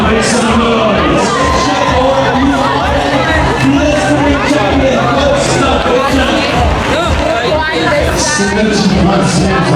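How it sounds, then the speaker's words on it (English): A large crowd at the Comrades Marathon finish line cheers and chatters loudly and continuously, an amplified announcer's voice running through the dense babble of spectators. "70 plus years old, come on, make some noise."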